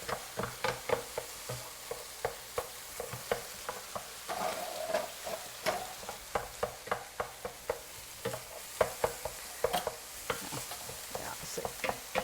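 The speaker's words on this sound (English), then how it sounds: "Hamburgers frying up nice" Hamburger meat sizzling and frying in a pan with repeated scraping and stirring clicks from a spatula, steady and close, no voices.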